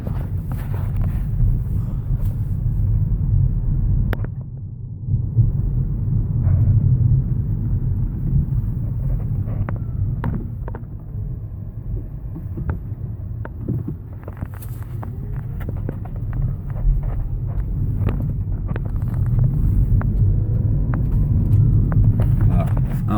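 Low steady rumble of road and tyre noise inside a moving Peugeot 208 electric car, continuous and fairly loud with a few faint knocks and small swells.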